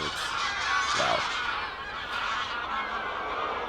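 Geese honking at a fishing lake, a short burst of calls standing out over steady outdoor background noise, not very close.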